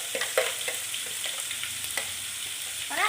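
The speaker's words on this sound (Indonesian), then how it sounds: "ini minyaknya udah berkutuk ya" Hot oil sizzles steadily while tomato sambal fries with tuna, a continuous bright crackle broken by sharper pops and spatters, close and fairly loud, with no voices.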